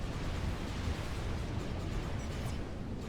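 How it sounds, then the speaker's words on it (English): Loud, continuous rumbling explosions from a Supreme Commander bombing run on naval ships, a steady roaring wash of blasts. "Quick and clinical bombing run there. Picks off a destroyer and a second as well."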